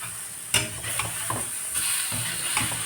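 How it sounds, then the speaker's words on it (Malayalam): Washed chicken pieces stirred into a pan of sautéed curry base for a chicken and ash gourd dish, crackling with a steady sizzle broken by several scraping stirs, close and fairly quiet. "കഴുകി വെച്ചിരിക്കുന്ന ചിക്കൻ ഇട്ട് കൊടുക്കാം കേട്ടോ നന്നായിട്ടൊന്ന് മിക്സ് ചെയ്യാം"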